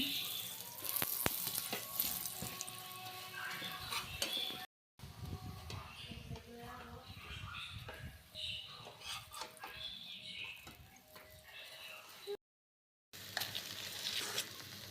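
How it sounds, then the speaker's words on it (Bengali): Potato bhaji frying and being stirred in a pan for breakfast, a steady sizzle with scraping stirs and some running tap water, broken by two brief silent gaps. "আলু ভাজি করা হয়েছে"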